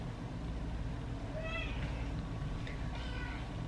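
A young kitten gives a few faint, thin meows under a steady broadband background hiss, indoors.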